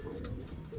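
Racing pigeons arriving at a loft after a hard race, cooing softly in a brief, low, murmuring call, close but faint against the background.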